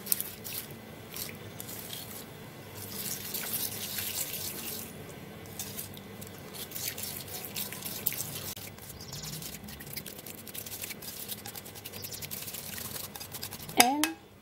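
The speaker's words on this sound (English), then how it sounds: "Then we're going to be stirring this up together." Cucumber juice and toothpaste being stirred together in a container, giving soft, irregular scraping and clinking under quiet room noise, with a brief sharper knock near the end.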